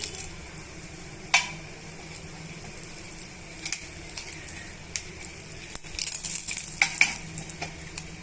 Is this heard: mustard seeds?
yes